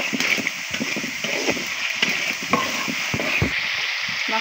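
Spice paste frying on a clay stove, a continuous bright sizzle punctuated by irregular scraping and stirring knocks from a utensil in the pan, close and fairly loud.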